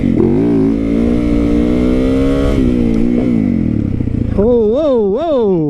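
A motorcycle engine revs hard and steadily during a long wheelie, its tone rising and then swinging up and down near the end, loud and close throughout.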